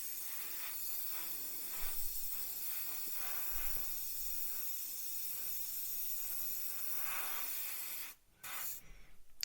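Airbrush sprays a thin second coat of paint onto a Revell PBY-5 Catalina scale model, a steady close hiss with brief pulses before a short cut-off near the end.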